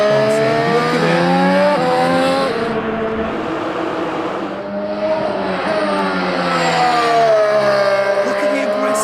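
A Formula 1 race car at the Barcelona circuit, its high-pitched engine note rising and falling as it accelerates and passes, loud throughout, with someone talking over it.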